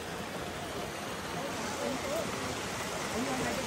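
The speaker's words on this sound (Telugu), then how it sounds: "దారిలో మనకి ఇలాంటి బ్యూటిఫుల్ వాటర్ ఫాల్స్ అయితే కనిపిస్తూ ఉంటాయి." Glacier-fed waterfall beside the Kedarnath trek path near Gaurikund, giving a steady broadband rush of falling water that fills the whole clip, with faint voices in the background.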